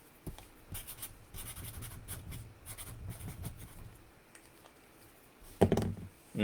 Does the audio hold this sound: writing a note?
yes